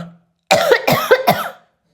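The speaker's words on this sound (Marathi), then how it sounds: "हे नाटकाचं खोकलं सगळं नाटकच खोकलंय" A short burst of three forced, deliberate coughs close to the microphone, evenly spaced, with silence before and after.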